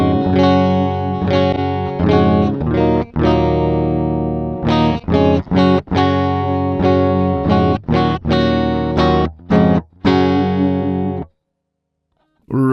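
Electric guitar on a clean setting through a Boss GX-100 processor plays a longer run of strummed chords and choppy stabs, loud and up front, before ending in a short silence.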